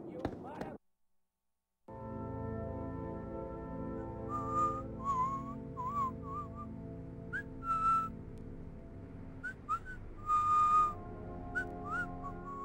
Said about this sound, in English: Just casually whistling, after a job well done.